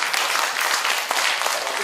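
Audience applause during a lecture on rural basic income: a short burst of dense, loud clapping from a gathered crowd.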